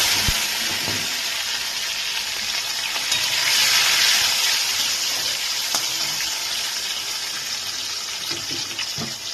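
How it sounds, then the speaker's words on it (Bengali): Chopped tomatoes hit hot spiced oil for a chicken kosha, giving a loud, continuous close sizzle with watery crackle and occasional stirring clicks throughout, no voices. "ফোড়নটা থেকে সুন্দর একটু গন্ধ এলে এর মধ্যে আমি কুচানো টমেটোগুলোকে দিয়ে দিচ্ছি"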